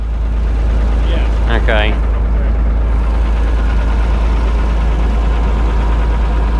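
A pickup truck engine with a blown head gasket idles with a loud, deep, steady rumble, and two people speak briefly over it near the start.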